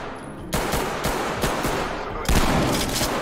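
Gunfire from an indoor tactical shooting game: rapid broadband bursts of shots, with a louder volley about two-thirds through, loud and close with faint talk beneath.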